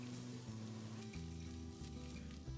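Garlic and onions sweat in a pan for a beef short rib braise, giving a soft, low sizzle close by under a steady background hum, with no talk.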